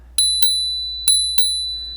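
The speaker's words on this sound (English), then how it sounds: "It does have a manual bell." A manual bicycle bell on an electric bike with disc brakes rings four times, two quick pairs of bright metallic dings, each ringing out briefly in an otherwise quiet setting.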